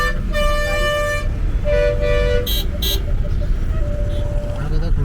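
Car horns toot repeatedly in a dense traffic jam on a service road, several sustained and short honks overlapping near and loud over steady engine rumble, with a few voices in the background.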